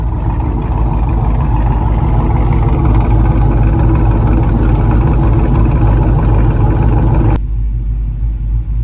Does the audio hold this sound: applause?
no